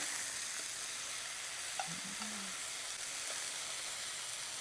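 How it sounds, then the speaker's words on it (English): Steaks on a hot grill, being flipped away from the fire, give a steady, close frying sizzle and hiss throughout, with a brief soft clink of a tool partway through. "we're going to flip these steaks. We want to flip them away from the fire"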